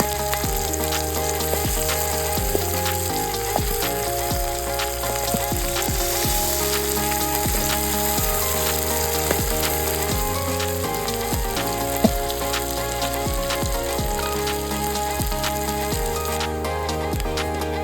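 Onions with green and red chilies fry in a pan, giving off a steady, busy sizzle with fine crackles and occasional stirring scrapes that last throughout.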